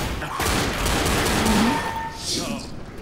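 Pistol gunfire in a Left 4 Dead zombie fight, a dense clatter of rapid shots and game noise running throughout, loud and close, with chatter mixed in.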